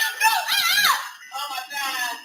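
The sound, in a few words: women screaming during a shooting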